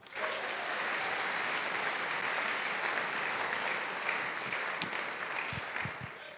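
Congregation at a French-language Sunday church service applauding steadily, sustained clapping that stays loud and even for the whole stretch, with a few scattered voices and cheers mixed in near the end.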